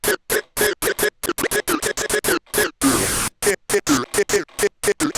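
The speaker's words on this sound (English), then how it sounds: "manipulating the vocal sounds way more like a real record scratch" Record-scratch effect built from a chopped vocal sample on a Moog synthesizer: rapid stuttering bursts of a voice sliding in pitch, cut by sharp silences, with one longer noisy scratch in the middle.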